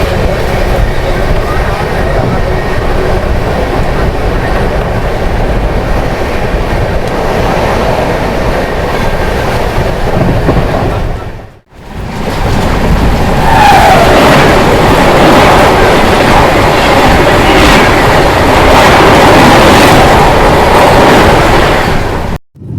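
The Coromandel Express running on rails between Chennai and Howrah, a loud, continuous rumble and rattle of the coaches heard from on board, briefly dropping away midway before resuming with clattering wheels.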